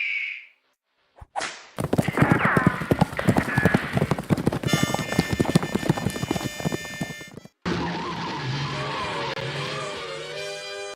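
A horse's hooves clip-clop in a quick, steady run of sharp hits, loud and close, followed by a sudden cut to a brighter tonal backdrop.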